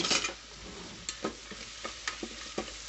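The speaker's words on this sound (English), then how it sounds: "Let's give this a little stir here." Half an onion frying in oil and being stirred, a soft, continuous sizzle with scattered spoon scrapes and taps, close but fairly quiet, with no talking.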